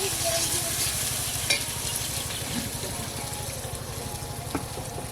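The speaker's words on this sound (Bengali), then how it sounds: "এই তেলে পেঁয়াজটা ভালো করে ভেজে নেব" Onions frying in oil while being stirred, a constant close sizzle punctuated by a few sharp scrapes and clinks of the utensil against the pan.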